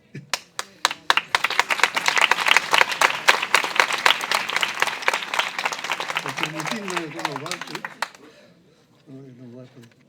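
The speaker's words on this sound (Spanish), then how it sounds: "Un aplauso para Rosendo porque la emoción lo embarga" Applause at a gathering honoring a speaker: a few sharp individual claps quickly swell into dense, loud clapping from a room full of people, then taper off as voices begin talking near the end.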